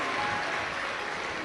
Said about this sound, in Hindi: एक बार जोरदार ताली बजाकर इन सभी का स्वागत, वंदन